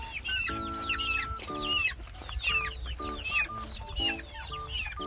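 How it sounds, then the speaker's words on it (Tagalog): Several chickens cluck and squawk close by in overlapping bursts, with a steady low hum underneath. "Tayo po ay magpapakain ng ating mga alagang manok."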